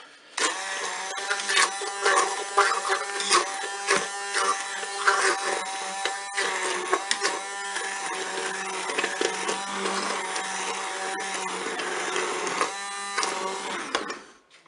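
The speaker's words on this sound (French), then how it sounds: "Je prends mon mixeur plongeant, moi je fais directement dans ma cuve." An immersion blender whirs steadily through apple and orange compote right in the cooker pot, a loud continuous buzzing motor with slight rhythmic fluctuations, running alone for about fourteen seconds before cutting off.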